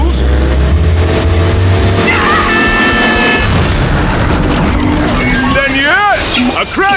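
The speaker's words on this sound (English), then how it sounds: "a crash is unavoidable" Two speeding vehicles collide in a cartoon. Loud engine roar and heavy booming impacts fill the scene, followed by squealing, sweeping tones, all under a narrator's voice.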